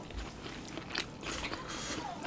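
Chewing North Korean tofu rice dipped in sauce, soft close-up bites and crunchy mastication over a couple of seconds, no talking.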